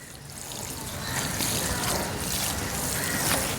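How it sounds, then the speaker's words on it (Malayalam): Water is poured into a potted adenium after repotting in fresh soil mix, a soft steady trickle and dribble as it soaks through and drains from the bottom, close and fairly quiet. "അപ്പം നമ്മൾ ആദ്യം വെള്ളം ഒഴിക്കുമ്പോൾ അടിയിൽ കൂടെ വെള്ളം പുറത്തോട്ട് പോകുന്നവരെയും നമ്മൾ ഒഴിക്കണം."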